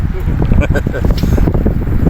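Strong wind buffeting the microphone while fishing at sea off Abu Dhabi in bad weather, a loud, constant rumbling roar with people talking close by.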